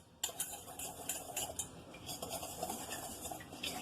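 Quiet, rapid clinking of a spoon stirring mug cake batter inside a ceramic mug, a steady scrape and tap heard close up with no talking.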